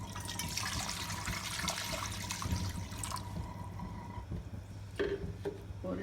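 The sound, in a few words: about one litre of water being poured into a pot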